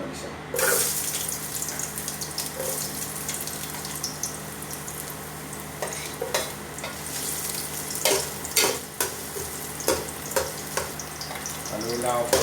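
Ginger sautéing in hot cooking oil, a steady sizzle and crackle running throughout with occasional sharper stirring scrapes and clinks, close and fairly loud, no voices.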